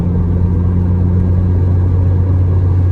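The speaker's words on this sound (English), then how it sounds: "these tires are very, very quiet, are very minimal road noise" Steady low road rumble and tire hum from a car rolling on Achilles ATR Sport 2 tires, a constant even drone with no talk.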